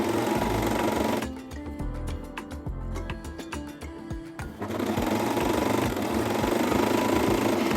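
Domestic sewing machine stitching a folded neckband onto a cropped t-shirt, a steady rapid mechanical whirring run with a short pause mid-way and fabric handling clicks, close and alone.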